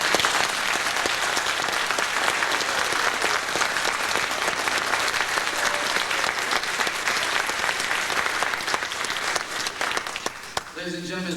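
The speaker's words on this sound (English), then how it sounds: "let's give all our newly second lieutenants a round of applause" Sustained, loud applause fills a commissioning ceremony for newly commissioned second lieutenants, steady dense clapping from a large audience lasting about ten seconds before tapering off.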